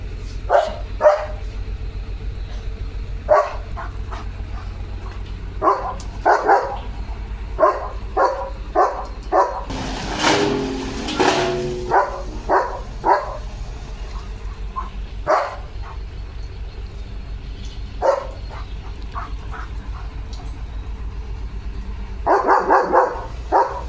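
A German Shepherd barks at a tractor repeatedly in short, sharp bursts at irregular intervals over a steady engine rumble, with a louder noisy stretch midway.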